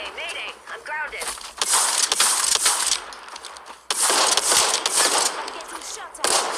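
Heavy automatic gunfire in a video game, two long loud bursts of rapid shots close by, with a voice heard briefly at the start.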